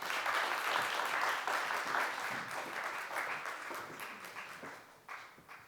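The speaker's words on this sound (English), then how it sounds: "Please come on up and give a warm round of applause for all the directors." Film festival press conference audience clapping for the directors, a full burst of applause that starts strong and gradually thins and fades over several seconds.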